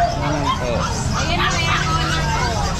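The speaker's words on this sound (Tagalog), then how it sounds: "Anong aso to? American Bully." An American Bully dog barks and yips nearby, repeated short barks mixed with the chatter of people talking around it.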